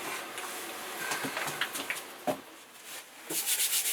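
A trimming tool scrapes excess clay from a thick thrown pottery platter, giving a faint, intermittent rubbing and scratching with short irregular strokes and a brief ticking near the end.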